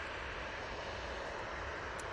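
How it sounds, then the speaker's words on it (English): Boeing 737-800 airliner at Manchester Airport, a steady loud broadband jet roar sustained throughout, close and continuous with no talk over it. "737 coming on in front of us using the 800 variant."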